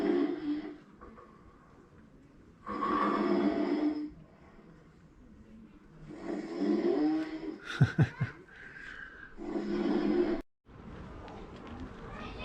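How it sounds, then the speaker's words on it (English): Loud snoring at Skansen in Stockholm, long rasping breaths in four drawn-out bursts separated by quiet pauses, heard up close. "looks like somebody's snoring very loud here"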